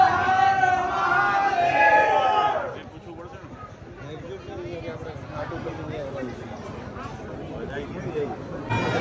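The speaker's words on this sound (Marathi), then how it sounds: "गर्दी फुल आहे." A dense crowd fills Kal Bhairav temple in Ujjain, opening with loud overlapping voices calling out together, then settling into a continuous murmur of nearby chatter and movement.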